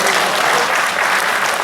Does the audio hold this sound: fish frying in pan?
no